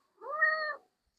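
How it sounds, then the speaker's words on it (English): A house cat comes up and meows once, clear and close, a single drawn-out tonal mew lasting just over half a second in an otherwise quiet room. "Kitty came to say hello."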